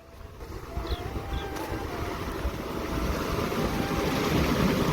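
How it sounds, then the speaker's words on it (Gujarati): Steady broadband rush of rainwater flowing through a village canal in Gujarat, with wind buffeting, growing slightly louder toward the end; no voices. "આટલું પાણી જાય છે કેનલમાં તો જુઓ આ બધું વરસાદનું પાણી જાય છે કેનલમાં"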